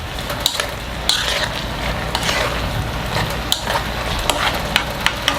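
Konjac and quail eggs braising in a pan with a spoonful of oligosaccharide syrup, stirred with a spoon: a steady sizzling bubble with scattered scraping clicks and taps throughout, close and moderately loud, no talking.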